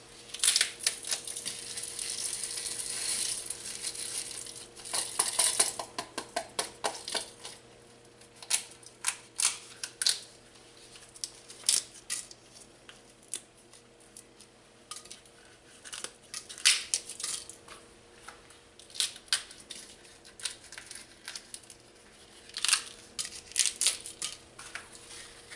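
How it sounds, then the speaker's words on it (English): Dried chili peppers are torn up by hand over a bowl, producing irregular bursts of crisp crackling and snapping, close and fairly quiet, with pauses between handfuls. "only these peppers with the capsicum, and tearing them up"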